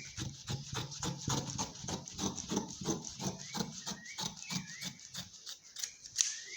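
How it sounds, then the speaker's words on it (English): Scissors cut out a semicircle fabric or paper pattern piece, a steady run of crisp snipping strokes at an even rhythm, close and moderately quiet. "And then I go ahead again and cut this second part out."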